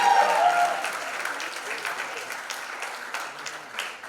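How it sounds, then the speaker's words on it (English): An audience applauds at a trailer launch event for the series Aarya Season 3, a dense wash of clapping that fades slowly and stays fairly faint throughout. "Round of applause louder,"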